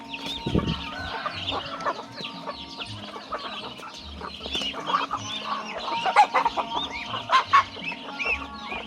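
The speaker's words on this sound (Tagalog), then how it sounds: "Damo ako mga alaga nga manok." Several chickens clucking and murmuring nearby, with scattered louder calls and bursts of activity over a quiet background.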